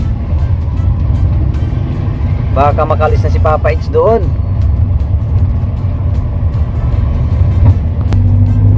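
A steady, loud low rumble of a vehicle riding in road traffic runs throughout, with a person speaking briefly over it partway through.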